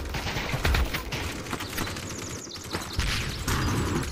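Rapid bursts of automatic gunfire in the VR shooter Aim XR, dense and continuous with brief gaps, loud and close throughout without audible talk.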